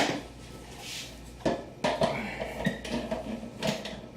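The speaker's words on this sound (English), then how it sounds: "So, add 4 eggs to the blender." Whole eggs cracked into a blender at a home bar for no-cook eggnog: a few sharp taps and knocks with faint clinks of the jar, close and moderately loud.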